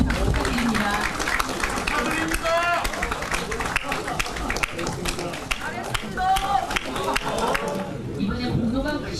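Studio audience applause on a Korean television news-panel program, a crowd of hands clapping under a presenter's continuing speech, with crisp taps and a busy, lively texture throughout.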